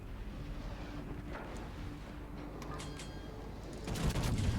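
Battleship Bismarck's main guns firing in the naval game World of Warships: a steady rumbling wash of distant gunfire and shell noise, swelling into a louder burst of crackling blasts in the last second, no talking.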